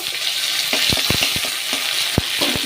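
Ginger dropped into a hot pan of spice tempering on a lowered gas flame for a vegetarian vegetable dish, crackling in a steady dense sizzle with sharp spatter pops and stirring scrapes, close and alone.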